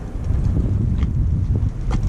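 Steady wind of about 15 knots blowing over a sailboat at anchor in a sheltered Mediterranean anchorage, a constant low rumble with gusty buffeting on the microphone and no voices.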